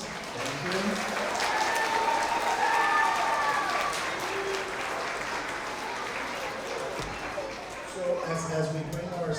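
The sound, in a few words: applause for kindergarten award recipients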